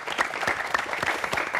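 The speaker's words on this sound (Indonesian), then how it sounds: "tepuk tangan sekali lagi dong buat Ade Asri" A television studio audience claps for a guest on a comedy show, with lively, uneven applause and a few sharper hand strikes standing out, fairly loud and close.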